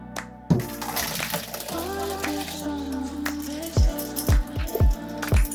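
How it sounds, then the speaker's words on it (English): Cooked macaroni noodles rinsed under cold running water, a steady faucet stream with squishy shifting and several heavier splashes toward the end, close and fairly loud. "we're going to rinse the pasta in cold water to stop the cooking process and cool the noodles"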